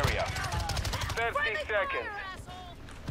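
Gunfire in Call of Duty: Modern Warfare II, with rapid bursts of shots crackling at the start and end of the passage and a player's voice talking over the middle.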